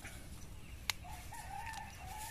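Chickens in a backyard coop, with a brief crow-like call and soft clucking at a moderate distance over steady low outdoor rumble; a short sharp knock sounds near the start.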